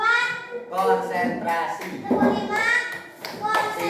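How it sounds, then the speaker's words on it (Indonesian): Children in a third-grade primary school classroom clap their hands in a rhythmic clap game. Short bursts of clapping come between loud, close children's and teacher's voices. "Tepuk satu. Tepuk dua. Tepuk tiga. Tepuk empat."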